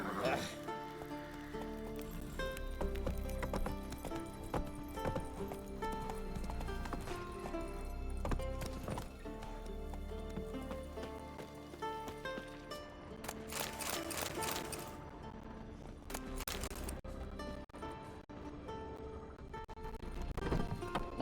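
A horse's hooves clop steadily in the video game The Witcher 3, a continuous galloping rhythm under a music bed, with a voice talking at times.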